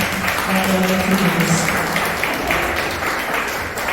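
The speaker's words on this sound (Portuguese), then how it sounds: "Então aplauda Jesus bem forte." A church congregation applauds loudly and steadily for several seconds, a dense, close wash of clapping with voices mixed in under it.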